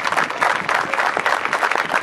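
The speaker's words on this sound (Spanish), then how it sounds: "para el cual pido un fuerte aplauso" Crowd applause at a sports club inauguration ceremony, a short burst of many hands clapping in uneven pulses for about two seconds.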